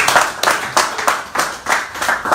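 An audience claps in a few short bursts of hand claps, close and fairly loud, with brief gaps between them.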